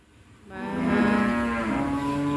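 A cow moos in a pen for cattle and buffalo, one long, loud, drawn-out call rising in after a quiet start and holding to the end, with no talking.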